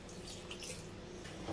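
Water is poured into a pot of mutton before it is covered to cook, a steady splashing pour close by that swells slightly near the end, with no talking over it.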